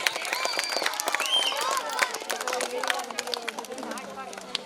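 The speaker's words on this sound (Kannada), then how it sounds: "ಜೋರ್ ಚಪ್ಪಾಳೆ ಬರಲಿ." Audience applause at a school prize ceremony: dense, lively clapping from a crowd fills the clip, with scattered voices and chatter mixed through it, easing slightly toward the end.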